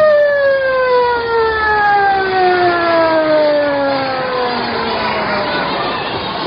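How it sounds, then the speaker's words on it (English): A descending air-raid style siren wails steadily in a radio drama, its pitch sliding downward as it winds toward stillness, loud and continuous with no voices. "The siren moaned to stillness"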